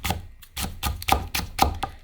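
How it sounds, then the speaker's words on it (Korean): A knife chops Cheongyang chili pepper finely on a cutting board in quick, close, steady taps, about a dozen sharp strikes in two seconds. "총총총총 썰어서 곱게 다지세요"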